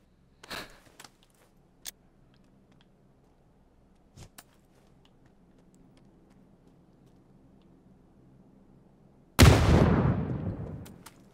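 Gunfire in PUBG: a few sharp distant shots crack early, then one loud close shot bursts with a long decaying echo, with no talking.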